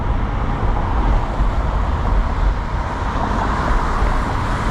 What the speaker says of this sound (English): We have a sick classic BMW coming by.